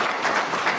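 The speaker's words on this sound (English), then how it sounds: "Another round of applause." A crowd at the Bomas of Kenya results tallying centre gives another round of applause, a short, steady and fairly loud burst of many people clapping at once.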